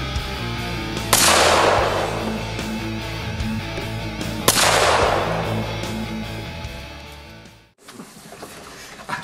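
Two loud, reverberant pistol shots from a .45 Springfield XD handgun ring out indoors several seconds apart, each trailing off slowly, followed by a brief quiet gap.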